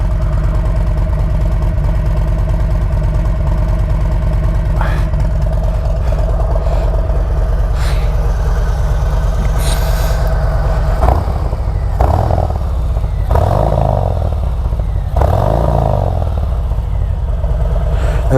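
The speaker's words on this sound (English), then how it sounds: "So it's an idle, obviously it's a stage 1 idle, not a stage 2, so there's no cam" A 2023 Harley-Davidson Road Glide Special with a stage 1 engine setup and stock cam idles steadily, a loud, close, throbbing V-twin rumble through its exhaust pipes, with a few brief revs and faint talk underneath.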